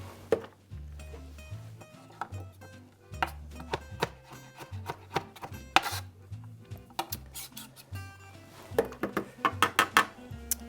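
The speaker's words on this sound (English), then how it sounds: "you can just smash it down and then just chop it like this" Knife chopping garlic on a cutting board, a run of irregular close thuds and knocks, some quick bursts of rapid cuts, with no talk.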